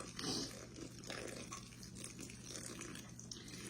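One and a half cups of warm water poured into a shaggy yeast bread dough mixture, a faint, steady running trickle heard close under a low background hum.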